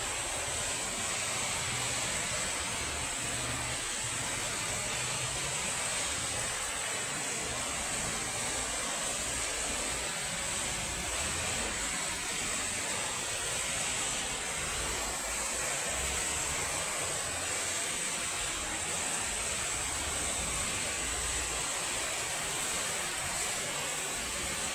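A man-made waterfall cascade at the church in San Juan de los Lagos pours with a steady, even rush of water that holds unbroken for the whole stretch, with no voices over it.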